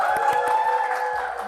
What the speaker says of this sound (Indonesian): Boleh tepuk tangan lagi kalau belum puas.